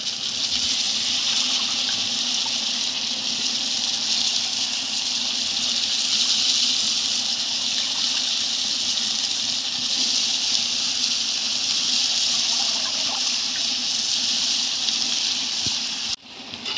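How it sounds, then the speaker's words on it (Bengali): Potatoes fry and hiss in a pan as they are stirred, giving a loud, continuous sizzling wash with no voices over it. "আমার আলুগুলো দিয়ে দেওয়া হয়ে গেছে, আমি ভালো করে নেড়ে নিচ্ছি"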